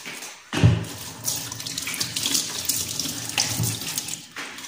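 Tap water runs steadily into a kitchen sink while ingredients for a shrimp omelette are rinsed. A close, continuous splashing stream is heard on its own, with a small burst of heavier splashing near the start.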